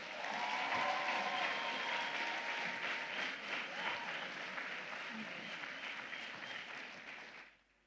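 Ceremony audience applauding honorees after their names are read: a continuous wash of crowd clapping, fairly faint and distant, with some voices under it, fading out at the end.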